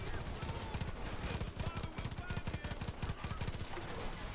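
Rapid automatic gunfire in Far Cry 5, dense bursts of shots fired continuously and close for several seconds.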